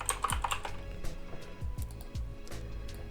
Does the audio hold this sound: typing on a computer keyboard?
yes